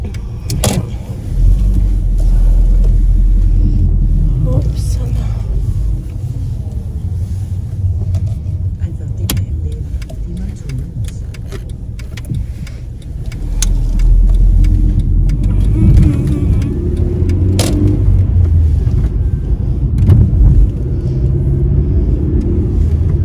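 A car drives along the road on a short shopping trip. Its engine and tyre rumble stay steady and loud, close inside the cabin. The noise dips briefly near the middle and then swells again, with no voices.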